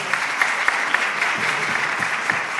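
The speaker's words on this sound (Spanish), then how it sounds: "Un fuerte aplauso para él, por favor." At a citizens' debate final, a room full of listeners applauds a student speaker, with close, dense clapping and a few sharper individual claps standing out.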